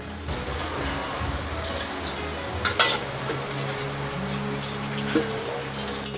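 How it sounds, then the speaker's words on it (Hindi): Oil being poured into a kadai for chicken achari, a steady sizzling, rain-like crackle running throughout with a few brief clinks, close and moderately loud, no talking. "ये सबसे पहले आपने कढ़ाई रखी है इसके अंदर अभी हम ऑयल डालेंगे ये ऑयल डाल रहे हैं जी"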